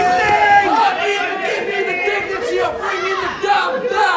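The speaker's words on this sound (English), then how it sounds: "The crowd very much on the side of Vegan." A wrestling crowd at a P.E.W Internet Championship match cheers and shouts loudly and continuously, many voices mixed into a close, lively roar.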